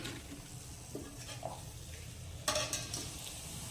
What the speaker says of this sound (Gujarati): ગોલ્ડન થાય ત્યાં સુધી આપણે તેને તળવાના છે